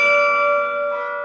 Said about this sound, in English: I always kind of call it a piano that has bells instead of strings.